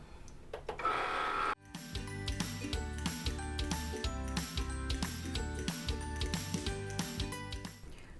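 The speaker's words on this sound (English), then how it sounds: "Then we'll load this into the Cricut and begin the cut." A Cricut cutting machine works through faux leather on a taped-down mat, a close mechanical whir with repeated stepping motor buzzes and carriage movements in a busy rhythmic pattern after a brief loading sound.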